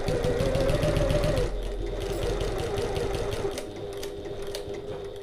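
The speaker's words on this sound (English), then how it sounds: "I'm going to back stitch at the start." A sewing machine back stitches fabric at the start of a seam on a passport folio, its motor whirring steadily close by with a slight change in pace midway.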